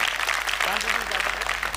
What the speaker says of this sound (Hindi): तो एक बार ताली बजा के इजाज़त दीजिए आप सभी लोग